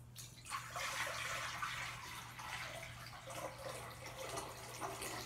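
Water runs from a tap into a basin for washing cotton yarn, a steady close splashing rush that continues throughout with slight fluctuations and no talking.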